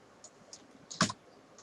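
Code is typed on a computer keyboard in a quiet room. A few sparse, light key clicks are followed by one sharper, louder keystroke near the end.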